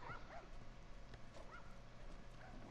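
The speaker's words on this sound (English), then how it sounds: "Oh, look at the cute dogs." Several dogs in The Last of Us bark and yip a few times, faint and somewhat distant over a low background hum, with short, spaced calls.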